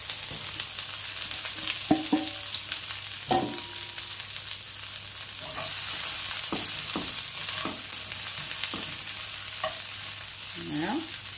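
Broccoli sizzles softly in a pan of oil, a low steady frying hiss broken by a few scattered stirring scrapes and clacks of a utensil against the pan.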